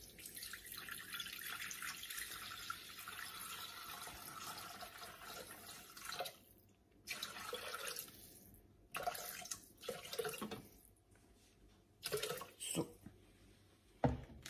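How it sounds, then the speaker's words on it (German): Water is poured into a Thermomix Friend cooking appliance, a fairly faint steady trickling stream that runs continuously, then breaks into short splashes and pauses toward the end. "Dann kommen wir zum nächsten Arbeitsschritt und müssen 500 Gramm Wasser einfügen"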